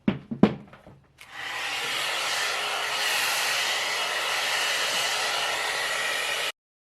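A blow dryer brush drying curly hair: after a few brief taps and rustles, a loud, steady airy whir starts and runs evenly for about five seconds before cutting off abruptly.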